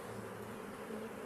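A honey bee colony buzzes inside its hive, a steady, dense drone of many wings that holds at a low, even level without breaks and with no voices.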